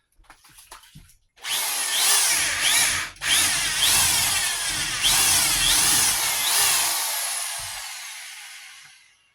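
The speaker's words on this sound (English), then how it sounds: "See how it does with wood." A power drill bores into wood during a water line repair, a loud close grinding whir that runs steadily for several seconds with brief dips in pitch, then stops abruptly.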